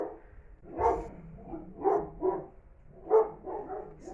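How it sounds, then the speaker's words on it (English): A dog in a neighbour's garden barks repeatedly in uneven bursts, muffled and somewhat distant, with short gaps between the barks. "This must be somebody in next door's garden. Why totally barking like that?"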